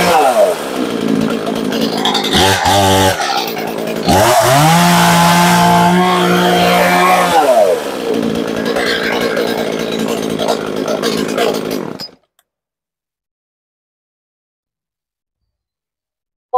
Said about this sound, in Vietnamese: Cây cưa này ở nhà mình cưa củi nè